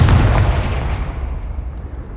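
A Confringo spell blast in Hogwarts Legacy lands as a heavy, deep boom that opens loudly and fades into a rumbling, crackling tail over about two seconds.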